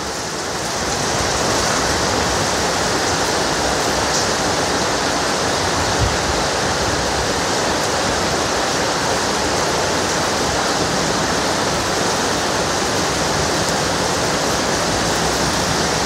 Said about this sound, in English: Look at that rain, man.